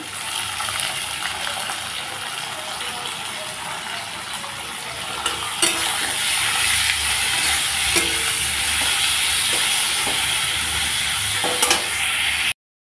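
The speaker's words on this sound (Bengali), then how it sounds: "দিয়ে দিলাম আলু, এখন দিয়ে দিব পেঁয়াজ কুচি" Potato and chopped onion fry in a pan, giving a loud, steady close sizzle with occasional stirring clinks and scrapes. No one speaks, and the sound cuts off abruptly at the end.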